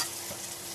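Garam masala paste frying with onion and tomato for a chickpea dal curry, giving a steady, even sizzle with a faint stirring scrape, close and continuous with no voices.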